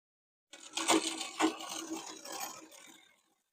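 A sewing machine stitches trouser fabric in a short burst of close, rattling mechanical whirring, starting abruptly and fading out after a few seconds, with no talking.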